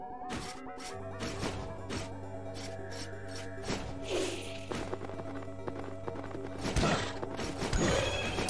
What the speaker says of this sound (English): Definitely a headless horse